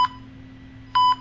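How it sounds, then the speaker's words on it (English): Electronic beeps from a visual novel video game, two short, clear tones separated by a pause of nearly a second over a faint hum, like a hospital monitor. "Beeping."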